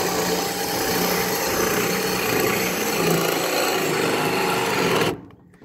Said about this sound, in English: So I just use a drill gun, right? No problem.